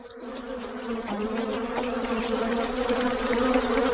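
Bees buzz around a hidden honey hive in a tree, a dense, steady hum that swells slightly louder as it goes on, with no voices.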